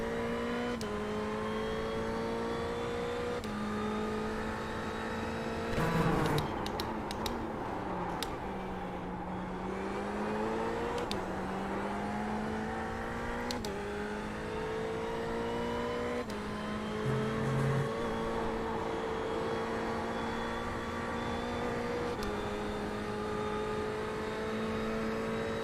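A race car engine in the Tango racing simulator game drones and revs steadily, its pitch rising and falling through gear changes, with a brief burst of harsher noise partway through, loud and continuous, no talk.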